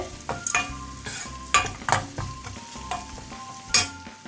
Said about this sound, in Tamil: போட்டு நல்லா கிண்டி விட்டு அந்த பச்சை வாடை போக கொஞ்ச நேரம் அடுப்பில் பாருங்கள்